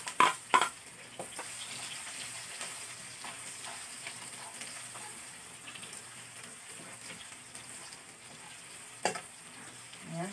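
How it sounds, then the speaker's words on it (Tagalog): Garlic sizzles and fries steadily in leftover cooking oil, a dense continuous crackle with occasional louder stirring clatters near the start and end, no voices. "So, sa natitirang mantika, i-fry na natin ang ating mga ingredients."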